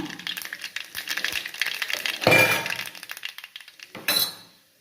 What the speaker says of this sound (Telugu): కొద్దిగా మస్టర్డ్ సీడ్స్ అండ్ చిన్న రెడ్ చిల్లీ వేసుకోవాలి.